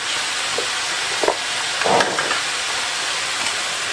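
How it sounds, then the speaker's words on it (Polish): Chopped vegetables with a piece of parsley sizzle in two spoonfuls of olive oil in a pan, a steady broad frying hiss with a few brief stirring clatters. "daję te 2 łyżki oliwy i wrzucam warzywa"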